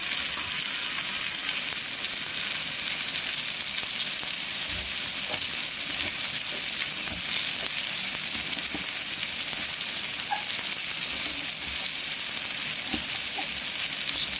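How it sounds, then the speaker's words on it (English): Hamburgers sizzle on a grill in a steady, even frying hiss that holds for the whole stretch, with faint pops and no talking. "I'm right over the grill right here. These hamburgers, they smell good."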